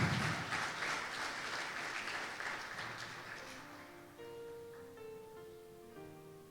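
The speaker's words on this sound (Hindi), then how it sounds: "अगर समझ में आ रही है तो थोड़ा खुदा के जलाल के लिए ताली बजा दें।" Church congregation applauding, a dense broad wash of clapping for several seconds that fades as soft sustained instrumental tones rise underneath.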